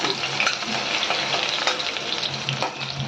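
Ghee sizzling densely and steadily with whole spices and chopped garlic: green cardamom, cloves, cinnamon, star anise and shahjeera. Scattered crackles and soft stirring sit on top, loud and close, with no one talking.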